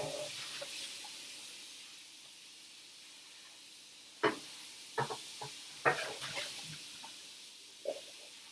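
A pot gets rinsed at a small kitchen sink: soft running water hisses faintly at first, then a few sharp knocks and splashes of metal against the basin come close together, with no talking.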